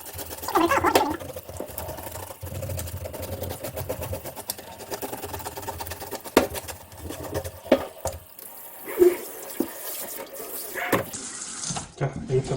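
A kitchen tap runs with a soft, steady trickle while a knife strikes and scrapes the scales off a large wild rockfish from Heuksando, producing intermittent close knocks and splashes, with someone talking over it.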